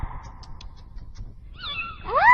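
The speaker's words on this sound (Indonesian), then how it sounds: "Kucing manis" Cartoon cat meows in a Crayon Shin-chan episode: a pair of rising, whining calls near the end, the last louder, after a quieter stretch with faint background sound.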